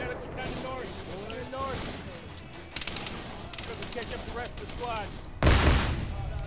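Gunfire and blasts ring out in the Vietnam-era video game SOG Vietnam, with a 40mm grenade launcher firing among them. Voices talk throughout, and one heavy burst lands near the end.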